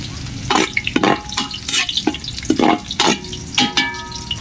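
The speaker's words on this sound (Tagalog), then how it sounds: "Tapos gisa na natin itong ating mga aromatics. Bawang." Garlic sautés in a pan for chicken adobo, loud close spatula scrapes and stirring strokes coming in a quick irregular rhythm over a low sizzle.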